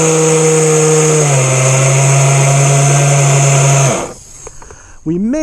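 A Blazer Marine Backlash Gen 3 boat's outboard engine runs loud and steady, then steps down in pitch before cutting off abruptly, leaving a quiet stretch with faint knocks and a brief restart near the end.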